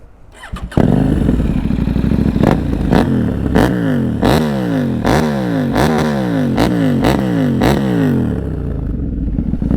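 KTM 790 Duke engine starting and revving hard, a close, loud motorcycle roar with about a dozen sharp throttle blips in steady rhythm, each swelling and dropping back, with no talk over it.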